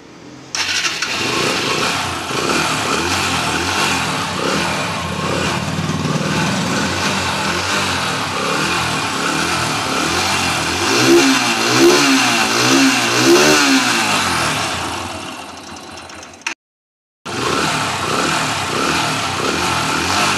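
A 17-year-old Yamaha Enticer motorcycle in good condition idles with a loud, close, steady engine note, then revs up in several quick rising and falling bursts before the sound briefly cuts out and the engine returns.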